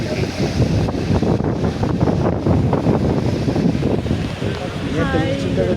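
Salty sea wind at a crowded beach with cargo ships offshore, a steady roar of wind buffeting the microphone along with surf, while people talk throughout.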